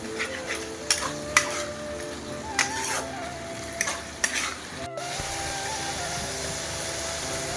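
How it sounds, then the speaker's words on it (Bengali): Chicken curry masala stirred and fried in a pan with a splash of water, a steady sizzle broken by repeated sharp spoon knocks against the pan, with a low hum in the background. "জল দিয়ে মশলাটাকে ভালোভাবে কষিয়ে নেব।"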